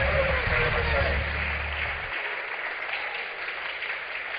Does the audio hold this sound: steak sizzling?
no